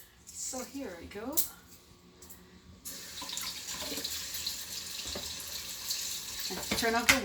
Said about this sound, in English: And turn off the water.